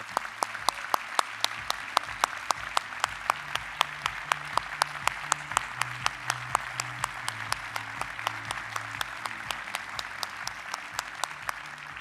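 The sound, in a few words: applause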